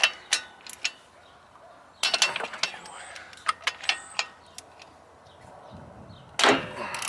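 Ratchet wrench turning during an engine compression test, with sharp metallic clicks in short bursts and scattered ticks between them, nearby and fairly loud.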